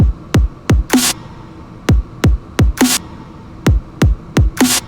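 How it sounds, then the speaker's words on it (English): A sparse electronic beat of deep booming kicks alternating with a bright, noisy layered snare, steady and punchy, nothing else playing. "No hi-hats, no nothing except for just kick and a like well-layered snare"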